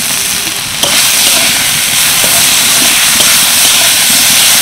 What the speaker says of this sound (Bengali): সব কিছু নাড়াচাড়া করে নিলাম।